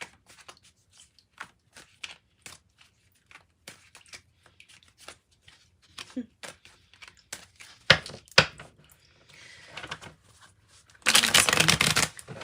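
An Osho Zen Tarot deck being shuffled by hand: a run of quick, crisp card flicks and riffles, sparse at first, then busier, ending in a loud dense burst of cards riffling together.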